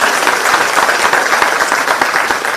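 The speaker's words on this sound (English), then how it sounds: "Give a big round of applause for them." Sustained applause from a crowd, dense clapping at an even level throughout, fairly loud and close.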